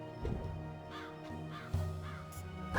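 A crow caws several times in the fantasy adventure game Dreamfall Chapters, with repeated harsh calls spread over a steady low game ambience and music bed, fairly close and moderately loud.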